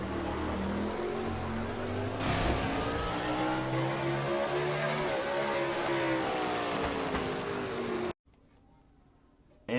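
Pickup truck race engines in a night race at Martinsville in a racing video game, a loud continuous roar with shifting pitch as the engines rev, then an abrupt cut to near silence near the end.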